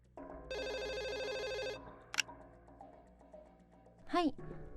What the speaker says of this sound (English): As she does this, the phone rings